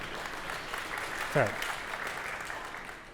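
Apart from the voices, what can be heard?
audience applause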